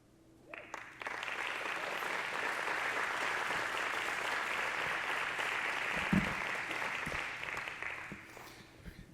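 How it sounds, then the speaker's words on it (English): Audience at a Kentucky aviation hall of fame award ceremony applauds an award winner, a steady swell of many hands clapping that starts abruptly, holds for several seconds and fades near the end, heard from a little distance. "Another round of applause for ACE"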